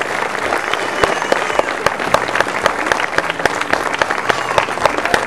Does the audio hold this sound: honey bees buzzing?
no